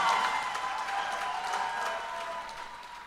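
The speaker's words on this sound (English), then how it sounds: "Keep clapping for her." Audience members at the AccounTech Summit 2025 clap for a Finance Mentor of the Year award winner; moderate, steady applause with a sustained tonal sound underneath that eases slightly over three seconds.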